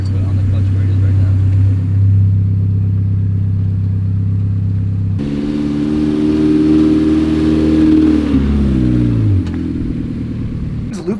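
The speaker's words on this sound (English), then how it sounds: "Just give it a little gas just so you feel like the response throttle-wise." A manual stick-shift car idles with a low, steady engine drone, then the throttle is blipped and the engine revs up with rising, wavering tones before settling back. People talk over the engine sound.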